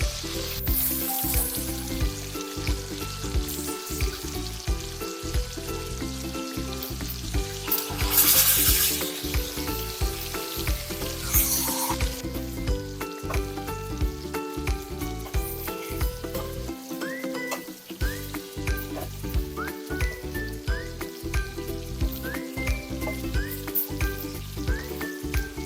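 Fish frying on a flat tawa griddle gives a steady, close sizzle that runs throughout beneath rhythmic background music.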